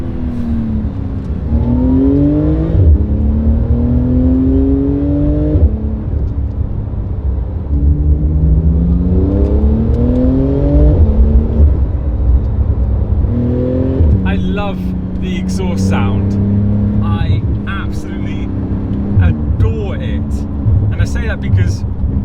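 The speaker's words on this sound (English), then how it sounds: "playing around with the acceleration up to the speed limit, in and out of the corners" A Porsche GT2 RS Weissach's turbocharged engine pulls hard and loud, its revs sweeping up in repeated rising runs through corners, with a voice talking over it during the later part.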